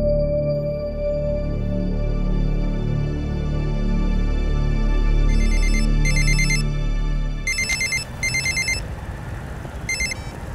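A telephone ringtone chirps in repeated electronic bursts during a Hindi film scene, first over a low droning background score, then more loudly with a hissing backdrop, with no talking.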